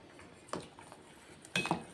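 A spoon stirs green sorghum flour porridge in a pot with two quiet clinking scrapes, one early and one near the end, separated by near silence.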